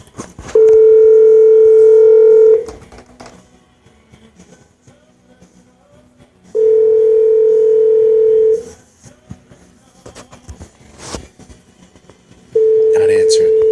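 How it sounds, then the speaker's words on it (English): A telephone ring tone repeats three times, each a steady two-second burst separated by long gaps of near quiet, with no one answering. "Come on, answer the phone."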